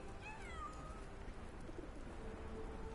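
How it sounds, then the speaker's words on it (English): A cat meows a few times in the Sherlock Holmes: The Awakened game, with some rising and falling cries early on, set against a steady ambient background. "I hear a kitty cat."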